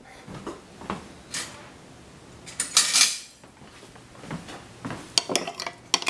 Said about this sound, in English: first I'm going to stir it up